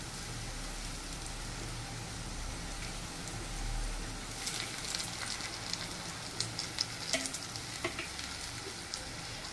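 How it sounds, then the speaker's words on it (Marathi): Leftover chapati pieces fry in a kadai with little oil, giving a steady close sizzle and crackle, with sharper pops and stirring clatter picking up toward the end. "याला पण आपण असे मस्त फ्राय करून घेऊ."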